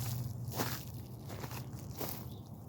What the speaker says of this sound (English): Grass is kind of crunchy.